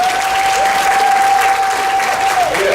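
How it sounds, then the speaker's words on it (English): A crowd gives loud, continuous applause at the opening of the 21st Missouri Institute on Minority Aging conference, honoring an organizer, with a thin sustained whistle-like tone running through it. "Would you please give her a wonderful round of applause?"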